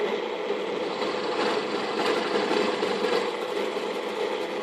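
An Atlas lathe drills a hole through cast iron, a steady, moderately loud whirring grind with a faint scraping edge that holds evenly throughout, no talking.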